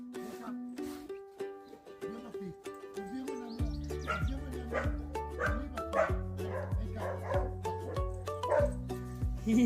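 A puppy yips and barks repeatedly in quick, high-pitched bursts, close and fairly loud, with a steady musical tone underneath.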